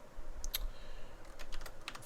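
Code being typed on a computer keyboard during a programming lesson, heard as quiet, close, irregular key clicks in quick bursts with no one talking.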